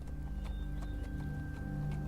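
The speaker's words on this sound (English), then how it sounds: "make the horses go quicker" Horses clip-clopping in The Walking Dead video game, faint evenly spaced hoof knocks over a low steady rumble and hum, with no voices.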